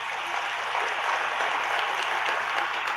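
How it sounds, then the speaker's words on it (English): An audience at a DJTMC first-anniversary event gives a round of applause, with steady, dense clapping sustained throughout and no talk over it. "Can you give her a round of applause?"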